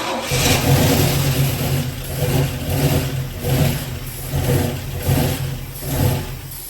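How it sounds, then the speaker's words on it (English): An old Chevrolet El Camino engine cranks and then revs loudly and close up, rising and falling in repeated surges of roughly a second each, with no talking. "Wait till it cranks up."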